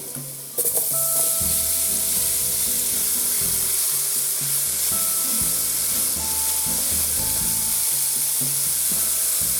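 Zucchini and garlic fry in a hot pan, a loud, constant sizzling hiss that starts abruptly and holds steady, with stirring scrapes and clicks underneath.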